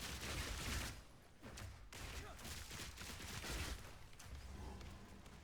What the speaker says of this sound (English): You can kind of just pin the rest up with your machine gun